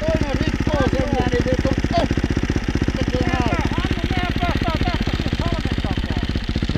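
A snowmobile engine idles on a frozen lake with a steady, loud, low rhythmic putter throughout, while people talk over it nearby.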